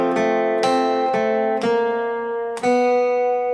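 Guitar plays the short intro of a song, a series of strummed chords with sharp attacks at roughly half-second intervals and a longer ringing chord near the end, solo and close with no talking.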